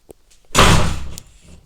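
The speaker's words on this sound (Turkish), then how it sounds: "Kapı çarpıp duruyor." A door in a Minecraft game slams shut with one loud, sharp thud that rings briefly and fades, followed by a small click, with near-quiet before it.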